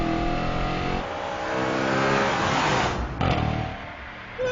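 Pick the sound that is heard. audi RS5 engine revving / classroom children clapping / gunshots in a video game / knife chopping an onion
audi RS5 engine revving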